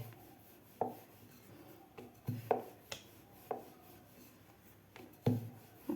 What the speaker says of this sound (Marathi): आता आपल्याला याच्या पुऱ्या लाटून घ्यायच्या आहेत